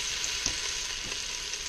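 Sausages from a butcher sizzle steadily in a pot, a dense continuous frying hiss with a few soft stir bumps and no talking.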